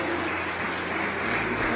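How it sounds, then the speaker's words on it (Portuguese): A church congregation applauding during a family worship service, a dense, continuous wash of clapping from many hands filling the room without a break. "Pode aplaudir Jesus, pode aplaudir, que Ele é digno"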